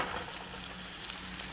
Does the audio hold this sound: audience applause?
no